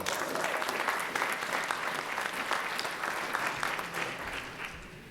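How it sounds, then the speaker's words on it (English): An audience at a panel on African American economics and the racial wealth gap applauds a speaker. Brisk clapping swells for a few seconds and then fades out quickly. "Please give Maura a round of applause."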